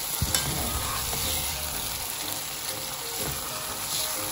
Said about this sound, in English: We reduce the heat, stir this in very well